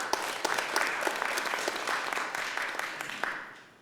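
At a legislative meeting, a room of people applauds with steady, fairly quiet clapping that fades out toward the end.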